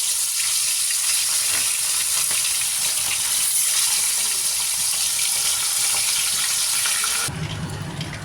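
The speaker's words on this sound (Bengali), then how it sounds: "তেলটা আমার গরম হয়ে গেছে, এবার এক করে মাছগুলো দিয়ে দেবো, মাছগুলো ভেজে নেবো।" Pomfret fish fry in hot mustard oil with a loud, dense, continuous sizzle and spatter that cuts off abruptly near the end.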